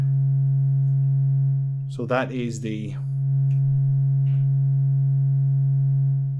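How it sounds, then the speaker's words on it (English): A steady, pure electronic sine wave tone from a tube-powered Eurorack distortion module hums continuously at a low pitch, loud and unchanging, while someone briefly speaks over it. "It's just a beautiful sine wave that you can just see there."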